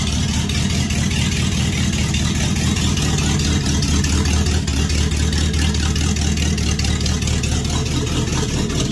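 A car engine idles in reverse with no exhaust fitted past the manifold, giving a raw, steady rumbling chug that carries on loud and unbroken throughout.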